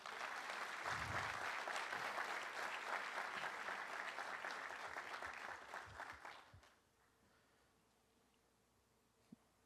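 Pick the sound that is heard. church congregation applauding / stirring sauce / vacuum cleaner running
church congregation applauding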